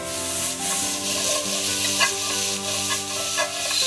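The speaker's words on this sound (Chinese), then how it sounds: "香味就是这样子干煸炒出来的" Potatoes dry stir-fried in a hot wok, a steady close sizzle with continuous scraping and tossing of the spatula throughout, no voices.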